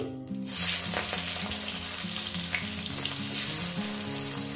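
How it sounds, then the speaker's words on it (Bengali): Steady, loud sizzling of chopped onions frying in hot oil for chicken curry, continuous throughout, with a low musical tone running underneath and no talking. "তেল যেহেতু আমার গরম। দিয়ে দেবো এখানে পেঁয়াজ কুচো।"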